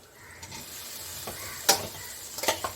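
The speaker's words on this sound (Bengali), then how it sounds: "পেঁপের যে হাফ সিদ্ধ করে রেখেছি ওই পেঁপেটা আমি দিয়ে দিচ্ছি" Half-boiled papaya goes into a frying pan and gets stirred, giving a soft, low sizzle with a few brief scraping clatters of the spoon against the pan, fairly quiet overall.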